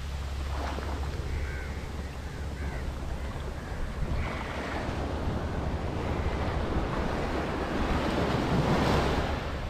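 Sea waves wash steadily onto Chettuva beach near Thrissur at sunset, a continuous surf roar with gusting wind noise on the microphone, while crows caw faintly in the background.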